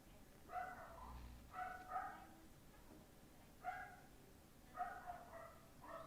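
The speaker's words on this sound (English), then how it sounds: "That's my dog." A dog barks in a room, about five sharp barks in uneven bursts, some doubled, standing out over quiet background hum.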